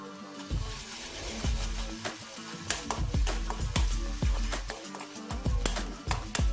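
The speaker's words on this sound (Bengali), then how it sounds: "রসুন কুচি, আদা কুচি দিয়ে এটাকে ফ্রাই করব" Chopped garlic, ginger and chili frying in a pan with soy sauce and tomato sauce, a steady sizzle broken by repeated scraping stirs of a spatula, close up with no talking.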